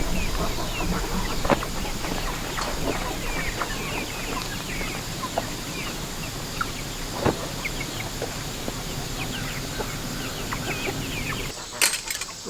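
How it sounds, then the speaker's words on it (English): Hens cluck and murmur continuously in a backyard chicken run between two coops, with scattered sharper calls and a rustle or flap near the end, fairly close and steady. "Now to go see if the chickens like it."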